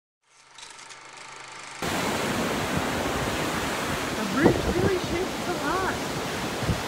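Strong wind buffets a hiking trail with a constant roaring rush, loud and close, and a brief voice sounds under it midway.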